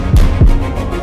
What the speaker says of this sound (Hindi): तुम चाहो तो मेरी दिल की धड़कन को सुन भी सकती हो और महसूस भी कर सकती हो।